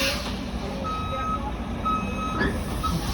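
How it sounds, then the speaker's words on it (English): A truck on Front Street East in downtown Toronto gives repeated reversing beeps, evenly spaced and moderately loud, over a constant engine and street rumble on a snowy day. "And we have to wait for that truck"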